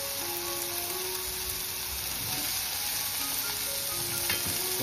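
Kantoli (spiny gourd) vegetable and potato sizzling as they fry in a pan, a steady close hiss with small crackles and occasional stirring scrapes, no voices.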